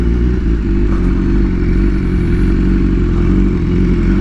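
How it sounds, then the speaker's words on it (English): Two Kawasaki Ninja H2 motorcycles ridden on a closed course produce a steady, loud engine drone with a deep low rumble throughout, continuous and close with no speech. "2 Kawasaki H2's ridden by professional riders on a closed course."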